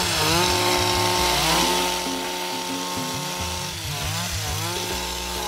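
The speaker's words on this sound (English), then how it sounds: "they're using handheld machines. They look like weed whackers." Handheld weed-whacker-style harvesting machines buzz loudly and continuously on a Brazilian coffee farm, their engine whine rising and falling in pitch as they work, close and steady throughout.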